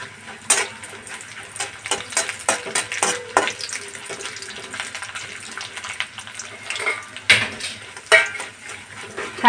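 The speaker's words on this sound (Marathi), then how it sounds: "उडदाची डाळ टाकूया, चण्याची डाळ टाकूया आणि गोल्डन ब्राऊन कलर होईपर्यंत छान याला परतून घेऊया" Urad and chana dal frying and being stirred in hot oil with mustard seeds in a pan over a low flame, a steady close sizzle broken by scraping stirs and a few louder clatters, no talking.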